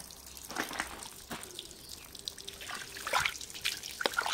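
Water from a hand-washed winter blanket, laundered in cold water, trickles and splashes steadily outdoors in a yard, close and moderately loud with irregular drips and gushes.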